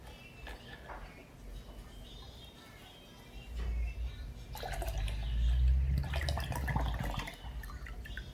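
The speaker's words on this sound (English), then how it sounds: "Pour the tin juice inside, Anna." Canned juice poured from a tin into a cooking pot in a home kitchen while plantain fries nearby, a steady liquid gush building midway and continuing to the end, with faint background voices and kitchen clatter.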